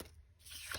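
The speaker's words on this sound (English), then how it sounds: "Tear a little bit more off." Paper being torn by hand while assembling a journal page, a short rough ripping sound up close that ends in a brief sharper tear, heard alone with no talking.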